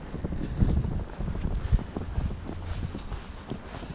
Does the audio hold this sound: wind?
yes